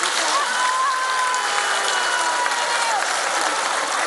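Crowd applause for Mexico's public servants at a speech by President Claudia Sheinbaum during a Mujeres Bienestar card handout, a continuous, fairly distant wash of many hands with faint voices beneath.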